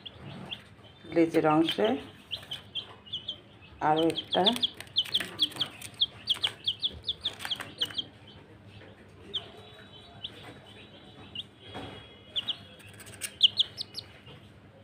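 A newly hatched chick with four legs cheeps in rapid high chirps near and far, mixed with clucking from other chickens nearby, while someone talks over it.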